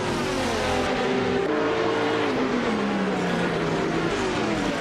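A 2004 Ferrari 550 race car engine in a racing video game at Kyalami whines loudly and steadily, its pitch rising and sliding through gear changes with no voices over it.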